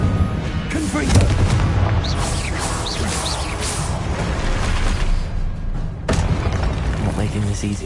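The Confringo explosive spell going off during combat in the Hogwarts Legacy video game, heavy booming blasts amid a dense wash of game noise, with a voice speaking over it.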